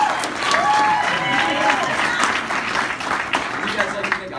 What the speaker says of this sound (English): Let's clap it up for Bill